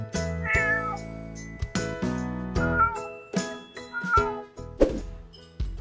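Several cats meowing in a row, a string of close, clear mews with short gaps, mixed with light jingling and a few soft thunks.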